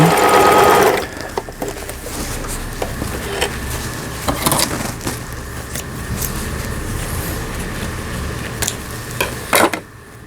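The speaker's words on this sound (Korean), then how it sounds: "후진 바느질" A Juki HZL-272 home sewing machine is running a reverse stitch. It opens with a loud, fast mechanical whir, then keeps up a lighter, steady needle clatter with a few sharp clicks close by.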